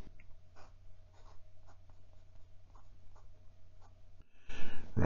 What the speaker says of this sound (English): Get out some paper and do our first writing.